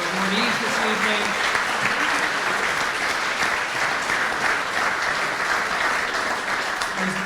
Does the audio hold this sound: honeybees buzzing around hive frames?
no